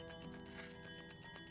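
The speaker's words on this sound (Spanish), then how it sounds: "es como una especie de campana, parecida a la campana tibetana" Chinese health balls chime continuously with a bright, sustained metallic ringing, several overlapping bell-like tones shimmering and gently pulsing, quiet and alone without any voice.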